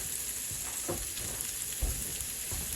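Spam slices sizzling and frying steadily in a pan, a continuous close crackle with a few louder pops and spatters, no voices.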